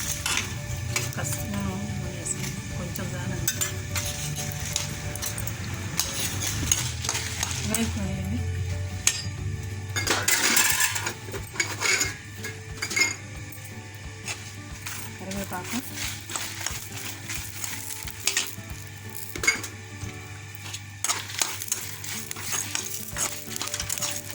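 Dried red chillies fry in a hot pan, a soft continuous sizzle broken by the scrape and clatter of a spoon stirring, while someone talks throughout.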